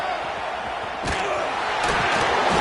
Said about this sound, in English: A cacophony of noise, debilitating surround sound, the war chant on 3rd down at the dope.